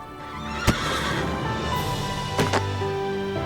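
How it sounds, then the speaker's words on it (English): A horse on a ranch neighs in a long, rising whinny, with a few sharp hoof knocks heard close by and no one speaking. "He's just really good at being a horse on this ranch."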